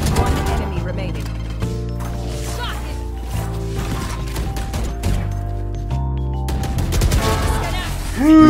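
A video game shootout with bursts of rapid gunfire and impacts layered over steady game music and electronic tones, while players talk excitedly over the action.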